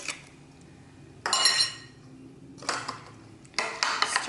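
Drained Rotel is stirred into a dish with a utensil, three bursts of scraping and clinking against the bowl separated by quiet pauses, close and fairly loud.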